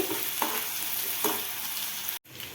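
Onions with two green chilies fry in a pan for chicken masala curry, a constant close sizzle broken by a couple of stirring scrapes and a brief sharp cut near the end.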